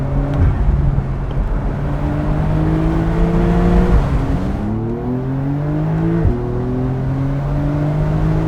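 Porsche 911 of the 992 generation, a 2022 cabriolet, revving hard while driving, engine pitch climbing steadily through the gears with brief dips at shifts, loud and continuous throughout.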